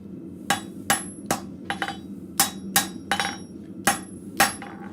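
A blacksmith at a forge hammers tapers on scrap metal, about a dozen sharp metallic strikes landing in an uneven working rhythm, loud and close over a steady low hum of shop noise.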